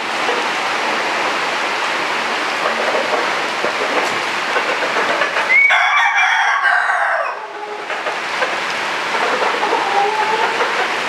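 Stag roosters of a Dragon Possum Sweater line crowing at a farm, with one clear crow breaking through steady broadband background noise.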